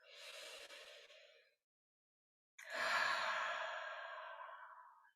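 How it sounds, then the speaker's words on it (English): Two deep breaths during a guided meditation, an in-breath followed after a short silence by a longer, fuller airy exhale, close and quiet with no talking. "Breathe it in, feel it."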